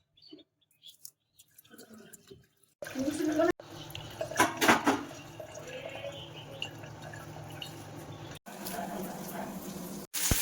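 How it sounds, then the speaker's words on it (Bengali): Water splashes and drips while chopped potatoes are washed by hand in a kitchen, with uneven sloshing and pouring sounds after a quiet start, fairly close and under light talk. "এটাকে প্রথমে এখন জল দিয়ে ভালো করে ধুয়ে নিতে হবে"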